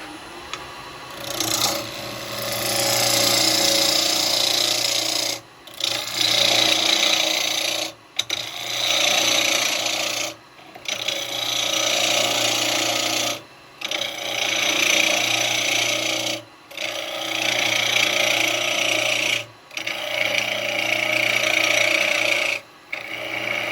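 Chisel cutting wood on a wood lathe while turning a pot and scoop, a steady loud rasping scrape in long passes broken by short pauses, close up with no talking.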